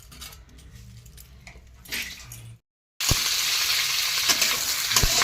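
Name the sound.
green chilies frying in a pan for chilli gobi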